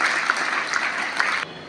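An audience at a school mathematics and science exhibition claps together to welcome a guest, a brisk, dense burst of applause that cuts off sharply near the end.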